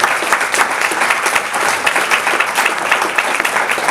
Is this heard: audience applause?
yes